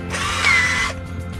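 Power drill bores holes in an LAG acoustic guitar body to fit a case hardware during bridge repair work, a single loud whining burst of about a second that stops abruptly.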